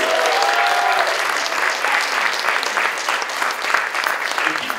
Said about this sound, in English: Let's cheer for the Roman.